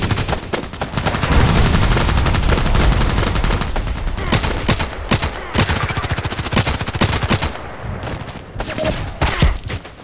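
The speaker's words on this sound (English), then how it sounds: "Mortar strike." A mortar strike in the Contract Wars shooter lands amid dense, rapid gunfire, with loud cracking bursts and thuds layered close together over steady combat noise and no talk.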